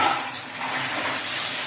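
Water pours steadily from an overhead shower in a newly finished bathroom, a dense, loud, continuous rush and splash with no voices.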